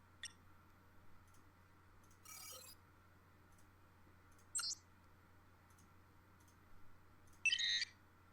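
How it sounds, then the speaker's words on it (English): Computer-style beeping sound effects play as a few short, sharp electronic chirps and bursts, spaced irregularly over a faint steady hum, each brief and fairly quiet. "We want some computer beeping noises."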